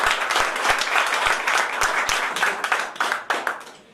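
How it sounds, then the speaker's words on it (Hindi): An audience at a company meeting applauds, a dense burst of many hands clapping close by that fades out toward the end. "उसके लिए एक बार ताली चाहूंगा।"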